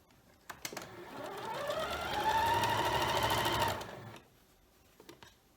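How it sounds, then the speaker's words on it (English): A home sewing machine runs in one continuous burst of about three seconds while stitching rows of a scrappy quilt block, its whirring motor rising in pitch, with light handling clicks before and after. "Now I'm going to take the last row here and place it on top of this, bring it up and sew it."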